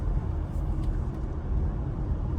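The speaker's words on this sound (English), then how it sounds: "Those shifts, those PDK shifts are just lightning fast, and they just sound so good." A 2018 Porsche Macan GTS with a PDK gearbox drives along, its engine a loud, steady, deep rumble that holds throughout with no clear break between gears.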